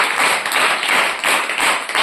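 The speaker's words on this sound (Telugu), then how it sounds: "కొట్టండి చప్పట్లు" A church congregation claps loudly in a dense, continuous burst of applause, close and steady with slight rhythmic swells.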